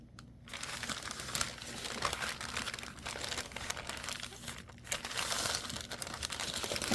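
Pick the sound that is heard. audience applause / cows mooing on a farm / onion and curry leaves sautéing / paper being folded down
paper being folded down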